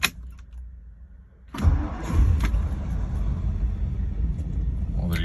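A 1963 Ford Thunderbird convertible cold-starts on a morning after sitting unused: a quick crank catches and settles into a steady, loud, close idle rumble, with a brief clink of keys before it fires.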